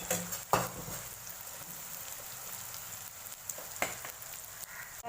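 Peppercorns, cloves and onion frying in a pan on a low flame give a steady, close crackling sizzle, with a few louder pops and a stir or two.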